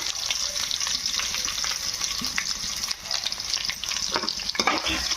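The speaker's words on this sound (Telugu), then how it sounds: "చిన్న ఉల్లి ముక్కలు పచ్చిమిర్చి ముక్కలు వేయించుకోవాలి" Chopped onions and green chillies fry in hot oil in a pan, giving a steady, close hiss and crackle with occasional stirring scrapes throughout, and no voices.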